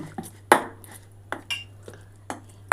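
Paneer coating batter being whisked in a bowl, with a series of sharp clinks and taps of utensil against the bowl in an irregular rhythm over a low steady hum, close and fairly quiet.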